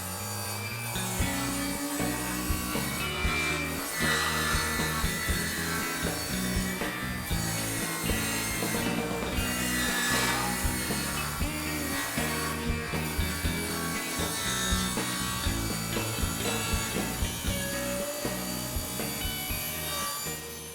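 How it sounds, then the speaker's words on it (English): Table saw with its blade tilted to 45 degrees ripping a wooden front board for a Swedish corner cabinet, a steady loud whine and cutting rasp running throughout with rhythmic pulses. "I've tilted the blade to 45 degrees, and I'm just going to go ahead and cut one front board at that dimension"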